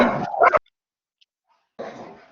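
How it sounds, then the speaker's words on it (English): Several dogs play and wrestle inside a house, giving a short burst of close barking or yipping at the start, then near silence, then more scuffling dog noise toward the end. "There's that cute dog I was talking about."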